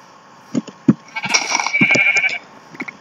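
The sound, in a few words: sheep bleating in Minecraft video game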